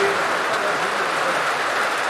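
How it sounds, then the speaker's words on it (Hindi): Steady rain falls evenly in a continuous broadband hiss, moderately loud and unbroken throughout, at an evening gospel convocation gathering. "बारिश आ रहा और ज्यादा भी हो सकता"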